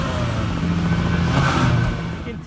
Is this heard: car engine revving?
yes